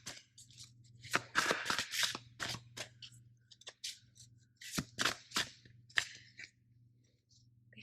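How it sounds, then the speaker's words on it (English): A deck of Witch's Wisdom Oracle cards is shuffled by hand in bursts of crisp riffling and slapping, close and fairly quiet, with short pauses between shuffles. "I'll shuffle here for you, pull a couple cards."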